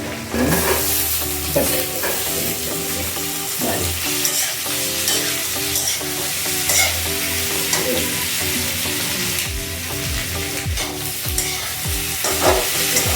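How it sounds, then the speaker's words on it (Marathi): Onion, garlic and curry leaves fry hard in hot oil for a vada pav filling, a loud, steady sizzle with repeated scraping strokes of a spoon stirring through the pan throughout. "चिमूटभर सुंदर कांदा घातली. बारीक कापून घेतलेला लसूण आहे तो पण टाकते. कढीपत्ता पण"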